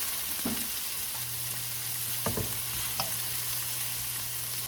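Steak bites sear in a hot pan just after being flipped, a steady close sizzle with a faint underlying hum and a couple of light clicks from the utensil.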